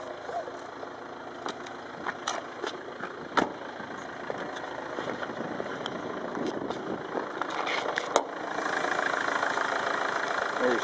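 A Citroen C5 HDi diesel estate's engine idles with the bonnet up, a steady mechanical hum with small clicks and knocks throughout, close by and fairly even, with occasional handling noises and no speech.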